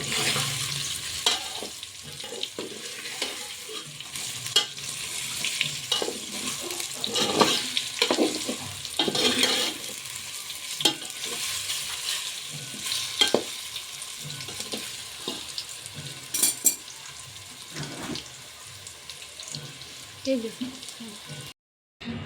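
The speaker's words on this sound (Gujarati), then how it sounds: "તો આપણે ધીમે ધીમે હલાવતું જવાનું છે અને આપણે થોડીક વાર આપણે તેલમાં ફેરવવાના છે" Patra, colocasia leaf rolls, stirred and turned in hot oil, giving a steady sizzle with scraping stirs throughout, while a voice talks intermittently over it.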